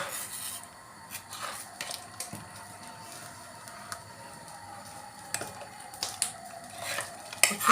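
A spoon scrapes and clinks against a pot of boiling rice-milk pudding thickened with starch, in irregular strokes, soft stirring sounds close by with occasional sharper taps.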